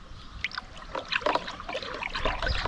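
Liquid fertilizer concentrate is stirred into five liters of water for garden tomatoes, giving soft, uneven sloshing and trickling splashes at close range, moderately quiet, with no voices.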